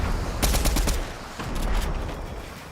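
A rapid volley of loud, sharp gunshots in the Fortnite video game, a burst of several close bangs followed by a second cluster, heard alone without talk.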